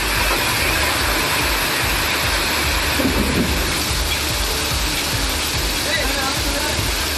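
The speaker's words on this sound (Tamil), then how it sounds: "வேலூர் மாவட்டத்தில் 2வது நாளாக கனமழை வெளுத்து வாங்கியது" Heavy rain pours down during a second day of downpours in Vellore district, Tamil Nadu. It makes a loud, dense, unbroken roar that fills the whole stretch, with faint thunder rumbling beneath.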